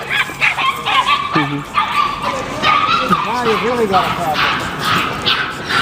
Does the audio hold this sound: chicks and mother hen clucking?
no